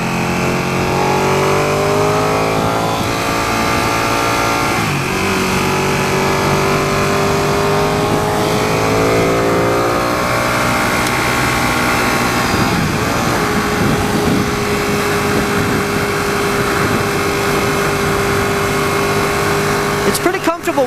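A 2016 Ducati 959 Panigale motorcycle engine in race mode roars loud and continuous during a test ride, its pitch climbing and dropping through the gears with wind rush underneath.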